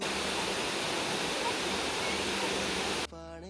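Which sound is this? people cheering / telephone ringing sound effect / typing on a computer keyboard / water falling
water falling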